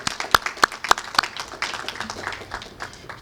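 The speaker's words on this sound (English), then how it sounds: "we should give the governor a big round of applause" A few sharp, distinct claps ring out first, then scattered audience applause for the governor at a Cook County vaccination-site briefing, thinning and uneven rather than a full ovation.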